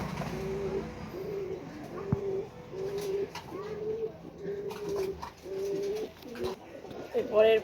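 Blue and white pouter pigeons coo in repeated soft, evenly spaced low calls close by, with someone talking over them near the end.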